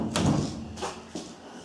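Homemade snow cab door on a tractor fitted with a shed handle, opened and shut in three quick thuds and scrapes, close and moderately loud.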